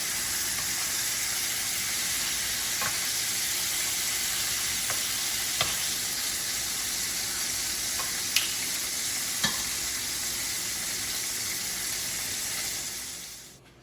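Pork belly sizzles steadily in a hot pan, a continuous bright frying hiss with a few sharp pops and crackles, close and even throughout before cutting off at the end.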